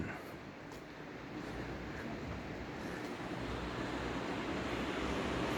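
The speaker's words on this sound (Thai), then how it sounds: "นั่นนะครับ น้ำตกเราเท่นบุญเน่น" A waterfall at Lauterbrunnen, Switzerland roars as a broad, steady rushing wash that slowly swells, heard from a distance with wind-like noise blending into it.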